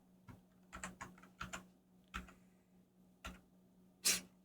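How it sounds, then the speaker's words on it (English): Slow, hesitant typing on a computer keyboard while entering emergency medical details: sparse, isolated key clicks in an irregular rhythm, close and quiet, with a sharper tap at the end. "So for my first line, I'm going to type the abbreviation of my condition."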